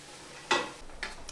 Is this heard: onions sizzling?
yes